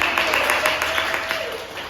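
Young students in an elementary classroom applaud a classmate, a dense burst of quick hand claps filling the room at close range.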